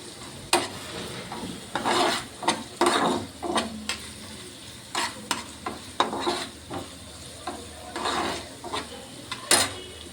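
Fenugreek leaves being sautéed in a pan over medium heat, with repeated spatula scrapes and stirring strokes over a steady low sizzle, close and fairly loud, with no voices.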